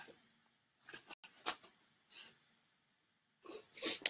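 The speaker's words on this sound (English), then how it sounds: "I'm going to sneeze." Sharp bursts of breath with a sniff and a gasp, building to a loud sneeze near the end, close to the microphone.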